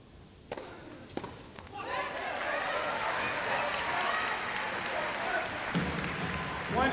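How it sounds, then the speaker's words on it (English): Spectators applaud at a World TeamTennis finals match, the clapping swelling from a few claps into broad, steady applause, fairly distant, with commentary running over it. "just on her toes, clapping"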